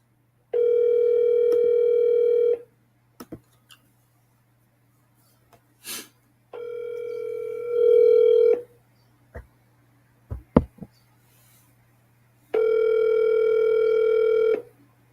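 Three long buzzing ringback tones from an outgoing telephone call, each about two seconds, sounding at regular intervals, with a few clicks, a sharp snort and faint breathing in the gaps between.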